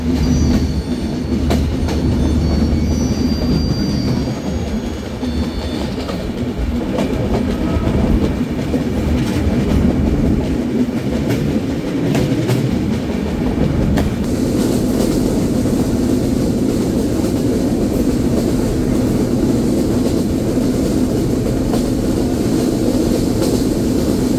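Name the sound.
Madhumati Express train running on rails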